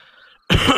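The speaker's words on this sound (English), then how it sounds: "Excuse me, all the coughing and stuff." A single loud, close cough bursts out after a brief quiet stretch, following some faint background sound.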